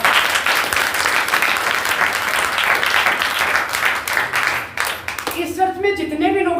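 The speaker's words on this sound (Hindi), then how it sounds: "जोर से स्वागत करो भाई, ताली।" A church congregation bursts into loud, sustained clapping to welcome a first-time visitor, a dense crowd of hands filling the room before fading as a voice takes over near the end.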